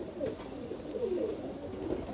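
Several pigeons of a fancier's loft, Rampuri Dub Wala and golden Sialkoti breeds, give low soft coos in repeated rolling phrases, close and fairly quiet over a steady background murmur.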